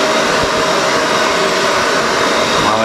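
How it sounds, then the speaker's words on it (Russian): An electric hair dryer blows steadily at home while drying a child's hair after a shower, producing a loud, constant whooshing hum that stays even throughout. "Давай, включаем фен."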